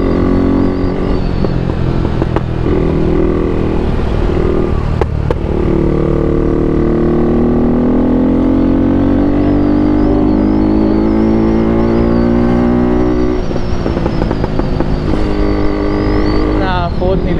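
A KTM RC 390 BS3 motorcycle with a 42T sprocket upgrade and Powertronic ECU accelerates hard through its gears, its loud, close engine note climbing steadily in pitch with brief dips at each gear change.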